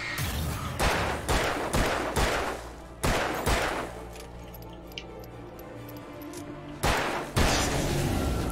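Bursts of rapid gunfire in the video game Alan Wake come in several volleys, loud and close, with quieter gaps between them.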